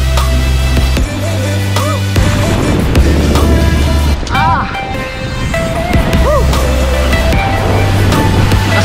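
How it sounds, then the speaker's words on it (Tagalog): Strong ocean waves crash and wash onto the beach of Capones Island in Zambales, a loud steady roar of surf with rushing wind, while people nearby talk over it. "Pa tayo rito, malakas ang alon."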